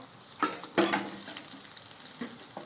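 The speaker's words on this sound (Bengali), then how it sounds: "এই পাশে বেগুন ভাজা হচ্ছে" Eggplant slices fry in a pan, a soft sizzle near the cook broken by a few sharp spatters and stirring knocks over a couple of seconds, with no voices.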